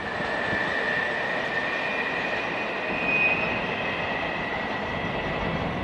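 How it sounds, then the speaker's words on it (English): A new locomotive-hauled train in Taiwan accelerates away, giving a steady rumbling roll with a sustained whining tone that swells slightly midway. "These new locomotives have some crazy acceleration."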